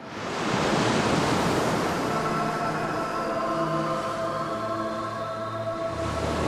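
Sea waves wash and roar continuously at close range, a broad rushing surf with wind buffeting the microphone and a low rumbling undertone, with no voices.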